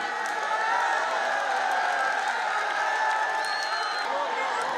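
A large crowd at a cricket ground on the first day of a match, heard as a steady, fairly distant wash of murmuring and cheering that holds an even level throughout, with no clear voice on top.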